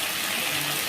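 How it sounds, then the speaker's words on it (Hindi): Water poured into a cooking pan of parwal (pointed gourd) and potato curry, a steady broadband gushing stream that runs loud and continuous for the full second with no talk. "पानी ऐड कर दूँगी।"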